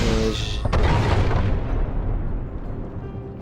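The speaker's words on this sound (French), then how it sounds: "J'ai fait l'explosion de lumière pour rien." Light burst explosion in the video game Ori and the Blind Forest: a loud, sudden boom with a brief bright crack that trails into a long rumbling decay over about three seconds.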